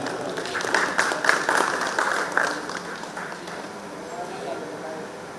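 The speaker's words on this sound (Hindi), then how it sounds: "एक बार फिर आपकी पुरजोर तालियों के साथ" At an all-India mushaira and poetry gathering, an audience claps in a burst of applause that swells over the first few seconds and then fades to a soft murmur.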